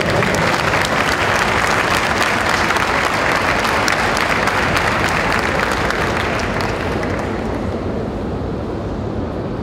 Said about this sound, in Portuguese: Queria pedir uma salva de palmas para vocês.